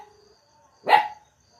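A single sharp bark from a dog confronting a large cobra rings out close and loud, standing alone against a quiet background with faint tonal hum.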